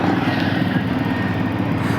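Motorcycle riding on a road, a steady close engine drone with rough low rumble and wind noise, continuous and loud.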